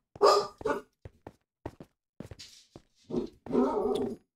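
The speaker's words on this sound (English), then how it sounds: "Dogs and stuff and dogs." Dogs in the game Minecraft barking, a series of short, sharp barks in irregular bursts with brief gaps, close and fairly loud, with no talking.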